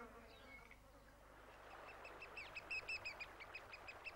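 A pollen-laden bee buzzes faintly in New Zealand's Fiordland forest, a thin wavering drone that rises and pulses in the last seconds against a soft outdoor background, with no talk.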